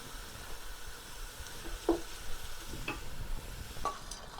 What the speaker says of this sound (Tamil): கரெக்டும் உருளைக்கிழங்கும் பொரிச்சாச்சு.